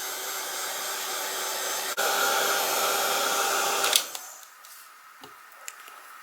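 Hair dryer drying paint on a craft piece, blowing with a steady loud whoosh that shifts briefly, then cuts off, leaving faint ticks and small handling sounds.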